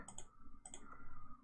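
A keyboard being typed on as an IP address is entered: a few quick, close clicks in two short bursts, with a faint hum underneath.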